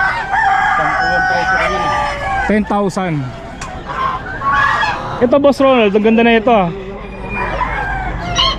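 Bantam Cornish chickens at an outdoor pet market crow repeatedly, several loud harmonic calls close by around the middle and later, with people talking and market bustle throughout.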